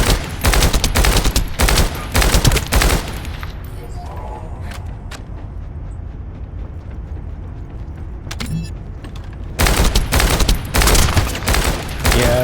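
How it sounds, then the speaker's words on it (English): Burst-fire pulse rifle shots in the video game The First Descendant, dense loud volleys at the start and end with a quieter stretch of game ambience between. "this pulse rifle is really, burst fire thing, it's pretty beast"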